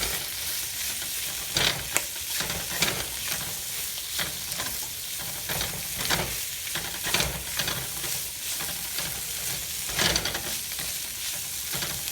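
Singapore-style rice vermicelli (bee hoon) with fish cake sizzles and crackles steadily in a hot wok, with repeated scraping stirs and tosses, loud and close with no talking.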